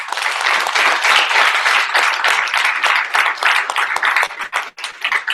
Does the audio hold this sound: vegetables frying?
no